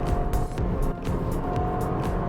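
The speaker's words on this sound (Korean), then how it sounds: "이번에는 패들 시프트를 이용해서 엔진의 RPM을 인위적으로 올려보겠습니다." BMW 320i Touring four-cylinder engine revving hard in third gear on paddle shift, a steady loud drone with rising and falling pitch and repeated sharp surges, heard from inside the car.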